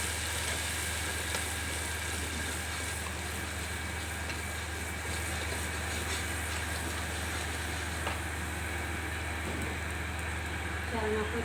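Spice paste of ginger-garlic, cumin and coriander powder frying in hot mustard oil for a Bengali fish curry, giving a steady low sizzle that runs throughout alongside a constant low background hum.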